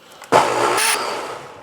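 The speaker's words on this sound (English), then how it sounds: "I need a better blender." A blender whirs loudly as it purees chipotle salsa, a motor that kicks on abruptly, surges, then winds down.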